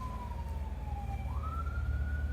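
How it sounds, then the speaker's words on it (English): A siren wails past at a moderate distance, its pitch sliding down then up, over a low steady rumble of traffic. "I hear sirens going by this house."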